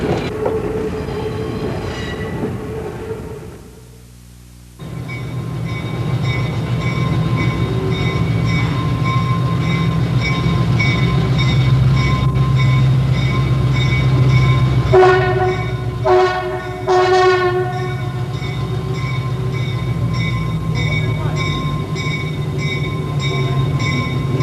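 A New Hope Steam Railway train runs with a steady, loud rolling rumble and rail noise, some brief squeals and a horn-like burst partway through, with no talk.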